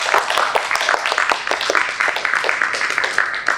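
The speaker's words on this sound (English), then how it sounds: "Irene Casteel a round of applause" An audience at a keynote lecture applauds the lecturer, a loud, steady patter of many hands clapping throughout.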